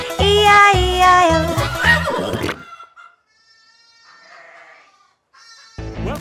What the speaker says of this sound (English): And on that farm he had some sheep